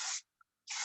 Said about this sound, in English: So what I'm gonna do is just lightly spray this